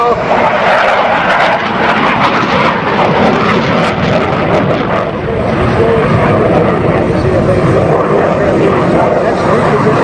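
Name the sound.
CF-18 fighter jet flying past at air show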